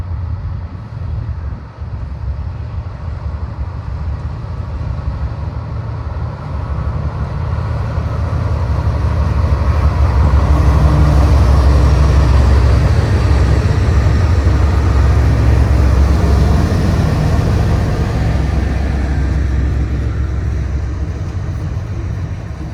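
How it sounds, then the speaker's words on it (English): Union Pacific locomotive UP 6178 running as a light engine near Helper, Utah, a loud steady diesel rumble with heavy low-end drone that swells as it draws closer, no voices. "UP 6178 East leads a light engine move back to Helper, Utah."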